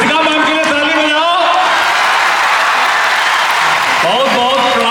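An audience at an annual felicitation event in Patna claps for a teacher, a broad wash of applause beneath a loud announcer's voice on the microphone.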